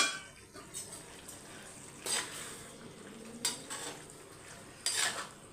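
Food being mixed in a clay pot, with a few scraping clinks of a utensil against the pot at spaced intervals over a soft, low background.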